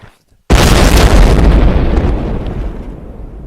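A loud explosion from the video game Happy Wheels bursts in after half a second of near silence, then rumbles and slowly decays over the next three seconds.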